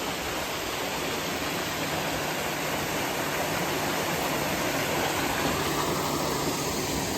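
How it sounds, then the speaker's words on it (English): Steady, dense rushing of a waterfall along a trail at Animal Kingdom, a continuous broadband roar with no breaks or voices. "But we get to enjoy this nice waterfall."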